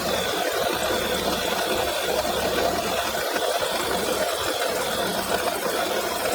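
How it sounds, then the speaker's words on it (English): A Volkswagen 1.4 TSI supercharged and turbocharged engine runs with a failed coolant pump bearing rubbing against the supercharger clutch disc, giving a steady close-up grinding, rattling whir over the engine's hum. "Pump bearing failed and rubbing against the supercharger clutch disc."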